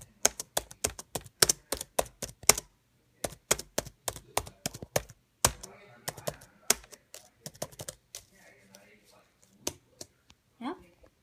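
Clacking keys of a very large old laptop computer being typed on, a fast run of sharp, close taps, then a pause with quiet talk, then a few more scattered keystrokes.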